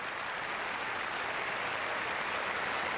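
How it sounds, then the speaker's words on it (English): A stadium crowd applauds shot putter Nelson during the men's shot put final at the 2001 IAAF World Championships, a steady, dense wash of distant clapping that holds evenly throughout. "Nelson acknowledging the applause from the crowd"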